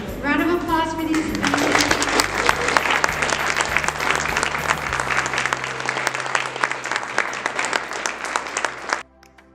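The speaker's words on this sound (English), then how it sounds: "huge round of applause for these scholars." Sustained, loud applause from an audience honoring scholars at a school Medal of Honor awards event, with a voice briefly audible at the start before the clapping swells and then cuts off near the end.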